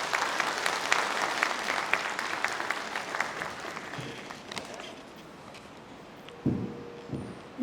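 Audience applause for a book's author at a book launch, a broad crowd clapping that gradually thins and fades over several seconds, followed by a few stray bumps and rustles near the end.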